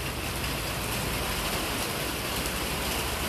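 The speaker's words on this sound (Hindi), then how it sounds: "देखो कितनी तेज़ बारिश हो रही है" Heavy monsoon-season rain pours down steadily around a home, a dense, loud, unbroken hiss of water with no voices heard.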